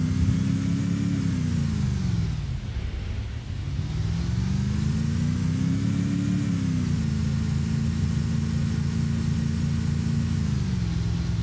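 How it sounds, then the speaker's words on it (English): A steady car engine hums throughout in the video game Arma 2, its pitch rising and falling as it speeds up and eases off, with a brief dip midway; no voices. "I just heard another car behind us"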